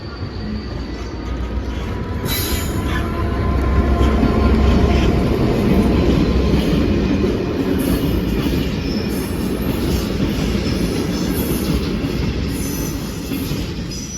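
A Class 66 diesel locomotive rumbles past hauling JIA clay wagons, a loud, steady wash of wheel noise and rolling stock with brief high squeals, continuous and close throughout.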